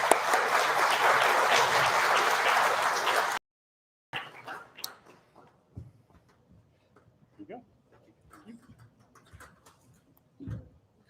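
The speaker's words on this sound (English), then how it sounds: "Give him a round of applause." Audience applause at a Parkinson's conference, a dense wash of clapping for about three seconds that cuts off abruptly, followed by sparse room noise and a voice speaking.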